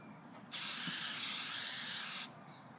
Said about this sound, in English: I started the beautification process by spray painting on a coat of white primer.